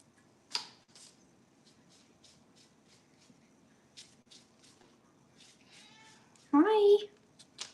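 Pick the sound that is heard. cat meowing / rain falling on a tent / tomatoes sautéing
cat meowing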